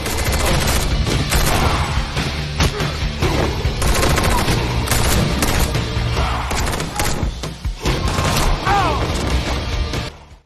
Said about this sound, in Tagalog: Lumabas sila habang nagpaputok ng baril.